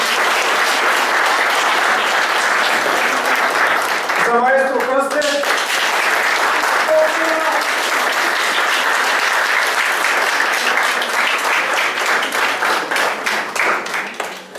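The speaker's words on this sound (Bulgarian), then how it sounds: "Още един път аплодисменти за изпълнителите." Audience applause for the performers at a charity concert, loud and sustained throughout, with a voice briefly calling out over the clapping midway.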